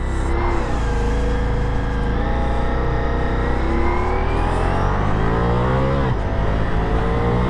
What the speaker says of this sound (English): So this is the V4 Gran Turismo engine